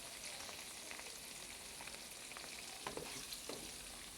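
Tempering spices frying in hot oil for an ivy gourd stir-fry in a home kitchen: a soft, steady sizzle with scattered small crackles and pops, quiet and close, without speech.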